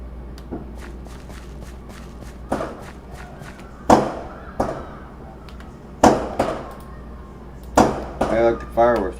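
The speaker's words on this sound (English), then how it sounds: "I like the fireworks are loud." Fireworks in Minecraft go off in a series of sharp bangs and crackles, several irregular bursts over low background hum, with a fizzing crackle trailing the last ones; fairly loud and close.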